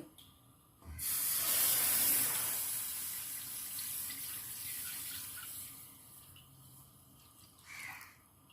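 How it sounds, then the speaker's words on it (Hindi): Milk poured into a pan to make sweet vermicelli with almonds, cardamom and sugar; a steady loud splashing pour starts after a second and gradually tapers off, ending with a brief clink. "पैन में दूध डाल लेंगे।"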